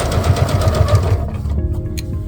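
A sewing machine stitches quilt binding with a loud, close, rapid rhythmic whirring and thumping of the needle that stops partway through, leaving a softer mechanical hum and a few small clicks.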